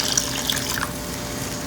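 Water is poured into a pot of cooking potato curry, a short steady splashing stream heard up close with no voices.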